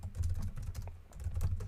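Quick clattering keystrokes on a computer keyboard while code is entered, a dense, close, moderately loud run of clicks with no voice.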